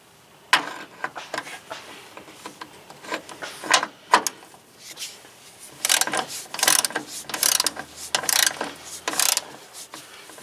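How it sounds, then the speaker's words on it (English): Torque wrench ratcheting on an engine mount bolt of a 1999 Honda Civic, close and metallic, in irregular bursts of quick clicks separated by short pauses. "next I'm just going to torque this in"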